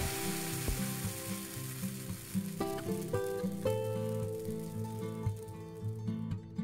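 Kue lumpur potato batter cooks in a mold pan with a steady, soft sizzle that runs throughout, close by, beneath tonal background music.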